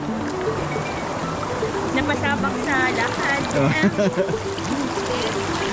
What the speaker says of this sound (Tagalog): Oh, karasas ang tubig!